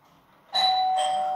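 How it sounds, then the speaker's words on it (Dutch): Two-tone ding-dong doorbell at home, ringing out clearly and close after quiet background, second tone sustaining to the end. "Oh, de bel gaat weer."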